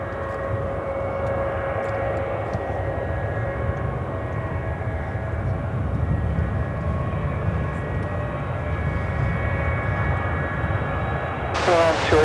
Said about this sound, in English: This is Emirates 235 coming in from Dubai on the 777-300ER